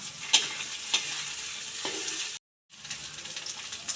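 Sliced ridge gourd and potatoes being stirred in a frying pan, a close sizzle with a few sharp spatula scrapes, cutting out briefly to a short silence before the frying resumes.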